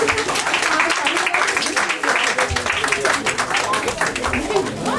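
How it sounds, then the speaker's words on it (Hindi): Children at an indoor gift-giving programme clap together in a dense, continuous patter of many small hands, close and fairly loud, with voices mixed in. "बाकी बच्चे जिनको गिफ्ट नहीं मिली कम से कम ताली बजाएं"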